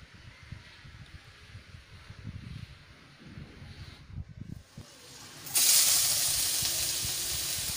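Green beans sautéing in a pan with vegetables for a Filipino ginisang gulay, giving a soft steady sizzle under clinks and stirring, which bursts into a loud, bright hiss near the end as more food hits the hot pan.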